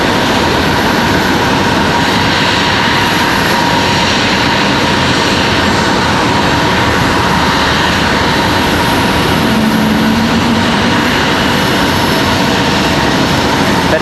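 Breeze Airways jet airliner taxiing and turning on the runway at Raleigh-Durham airport, a steady broadband engine roar with wind-like hiss, continuous and moderately loud without voices.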